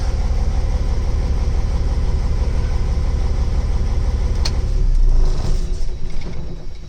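A Freightliner Century truck engine idles with a steady low throbbing rumble, swells briefly, then winds down as it is shut off near the end.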